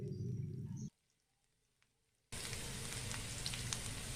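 Spices hit hot oil for a kadhi tempering: after a brief silence, a soft, steady hiss of frying noise comes in and carries on, faint but continuous.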